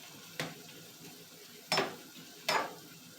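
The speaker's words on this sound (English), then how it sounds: "We're going to add it to what's already in the pot, the juices and everything, and we're going to stir that." Pepper steak stirred in a pot with its juices: three scraping, sizzling strokes at irregular intervals, close by, over a soft low simmer.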